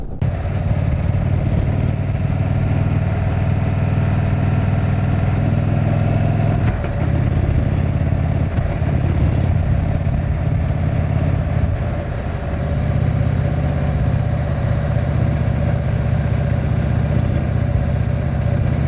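Indian Chief Vintage motorcycle cruising along winding roads, its engine giving a steady, close, continuous drone that holds level for the whole ride, with brief dips in loudness around midway and near the end and no voices.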